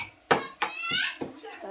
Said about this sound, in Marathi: तोपर्यंत तरी अजून थोडंसं कुटते बरं का